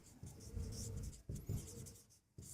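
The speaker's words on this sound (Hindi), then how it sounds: "यहाँ लिखते हैं हमें सिद्ध करना है" Pen or chalk writing out a maths proof for a class 10 triangles exercise, a close, soft scratchy stroking in a few bursts with short pauses between, alone without talk.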